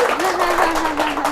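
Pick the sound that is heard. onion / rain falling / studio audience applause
studio audience applause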